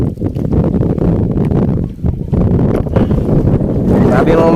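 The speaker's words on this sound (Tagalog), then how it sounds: "Ang lakas ng hangin oh." Strong wind buffeting a small fishing boat out on the water during ultra-light fishing, a loud continuous roar and rumble that dips briefly but persists throughout, with a voice speaking over it.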